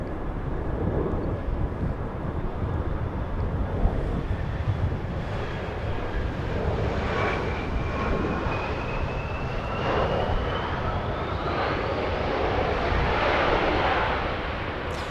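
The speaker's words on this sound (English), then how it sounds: "It is an Embraer E175 flying in from Redmond, Sky West" A SkyWest Embraer E175 regional jet arriving at Los Angeles International Airport, its engines a broad steady roar with a slowly rising whine, loud and continuous for the whole stretch.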